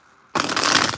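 Tarot cards are shuffled in one quick burst after a brief near-silence, a dense papery riffle of flicking cards close to the microphone, with no talking.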